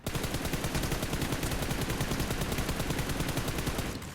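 Rapid automatic gunfire in PUBG Mobile during an 8v8 rooftop match: a loud, unbroken string of evenly spaced shots that lasts nearly the whole stretch and then cuts off.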